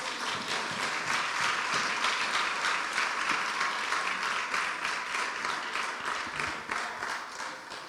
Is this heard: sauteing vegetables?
no